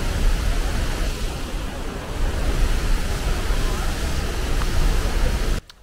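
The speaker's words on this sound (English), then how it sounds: "you gotta come check out this waterfall" The La Fortuna waterfall in Costa Rica roars with a steady, full rush of falling water, loud and close, before cutting off abruptly at the end.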